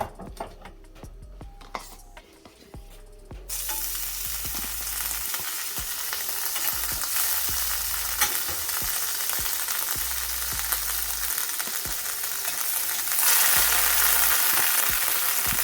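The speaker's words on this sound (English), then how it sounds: "When your dish is nice and hot, you go in with some butter." Butter hits a hot saucepan on low-medium heat, opening with quieter clatter and handling before a loud, continuous close sizzle takes over and builds slightly toward the end, with no voices.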